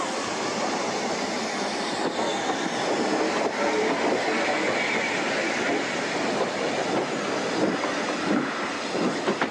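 Preserved steam locomotive Kolhapur pulling away from a heritage railway station toward Rothley, a steady rolling rumble of coaches and wheels on track with faint rhythmic clatter, sustained and fairly close, no voices.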